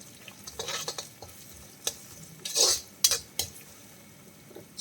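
Shallots, curry leaves and asafoetida frying in a pan while being stirred, with a soft sizzle beneath several distinct scrapes and clinks of a spoon against the pan, close and moderately loud, coming in short bursts.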